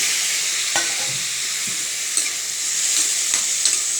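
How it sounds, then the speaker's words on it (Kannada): Tomato pieces frying with browned onions in a pan give a steady, close sizzle, broken by a few soft clicks and scrapes from stirring, with no talk. "ಈರುಳ್ಳಿ ಫ್ರೈ ಆಗಿದೆ ಈಗ ಅದಕ್ಕೆ ಟೊಮೊಟೊ ಹಾಕ್ತಾಯಿದ್ದೀನಿ"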